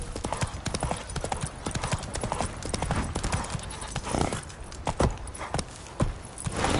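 Roach the horse gallops in the video game The Witcher 3, with loud, close hoofbeats pounding in a fast, continuous rhythm and a brief whinny mixed in.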